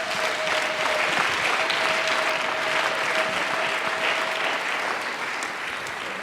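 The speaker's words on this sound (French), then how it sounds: "Applaudissons pour le Seigneur" A church congregation applauds during a worship service, a dense, continuous roar of clapping that holds steady and loud throughout, with a faint sustained tone underneath.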